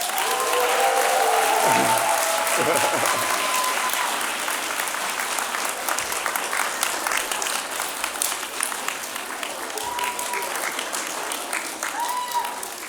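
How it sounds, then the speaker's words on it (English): A graduation convocation audience applauds faculty and staff with sustained, dense clapping that fills the hall for the full stretch, starting loud and easing slightly, with a few voices briefly audible beneath it. "So would you give them a round of applause?"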